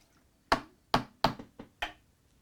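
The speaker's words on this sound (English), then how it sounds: "I'm gonna wash that other little brush out." Five sharp knocks in quick succession, close and distinct, as a small paintbrush is rinsed out and tapped against a water container between painting steps, with no talking.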